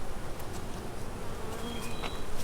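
Carniolan honey bees drone around an open hive during an inspection, a dense continuous buzzing close by, with the occasional louder whine of a single bee passing near.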